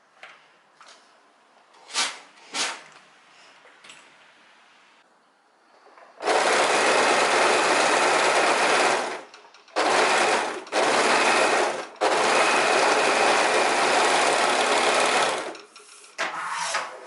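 An overlocker sergs a seam on linen shorts in loud, rapid whirring bursts, several long runs separated by short pauses, with a few quieter handling clicks and rustles before the stitching starts.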